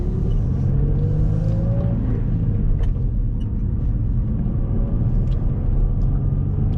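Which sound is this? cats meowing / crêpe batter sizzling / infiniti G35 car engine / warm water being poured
infiniti G35 car engine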